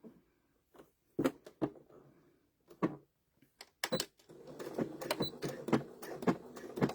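A sewing machine set to back stitch runs with the needle moving up and down while the fabric stays put, stitching a small fabric piece. A few separate clacks come first, then a steady, busy mechanical chatter.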